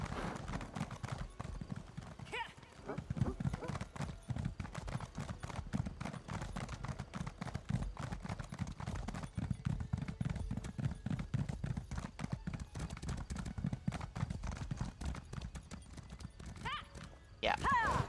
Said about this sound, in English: I think we're gonna need a horse for this.